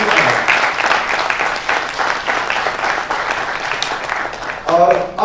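A seminar audience breaks into sustained, dense clapping that fills the room at an even level. A voice cuts in briefly near the end.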